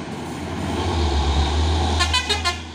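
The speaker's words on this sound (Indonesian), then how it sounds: "Isuzu Giga, truk Pertamina." An Isuzu Giga Pertamina truck rumbles past with a deep, loud engine drone, then sounds several short horn toots in quick succession near the end.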